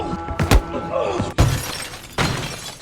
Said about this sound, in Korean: 막무가내로 집을 부수던 강도들은 데이지에게까지 폭력을 휘두르고